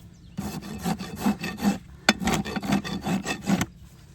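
A farrier rasps the hoof wall of a Tennessee Walker horse, smoothing flare and rolling the edge: a steady run of rhythmic, scraping rasp strokes, close and fairly loud, with a brief pause midway before the strokes resume.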